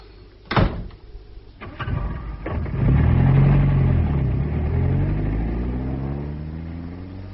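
A car pulls away in a radio drama: a door slams sharply, a second thud follows, then an engine starts and revs up, building to a loud steady drone that slowly recedes.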